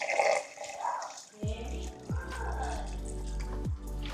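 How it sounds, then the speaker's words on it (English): Water gurgles and splashes through a car engine's cooling system during a coolant flush, with uneven bursts and drips and a steady low rushing underneath, fairly close. "I think I have to flush it again with water for the last time"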